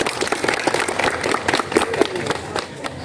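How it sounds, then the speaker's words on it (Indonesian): A class of students claps after a group presentation on physical fitness, a short, loud burst of clapping that is close by and somewhat uneven, with faint voices mixed in. "Baik, tepuk tangan dulu."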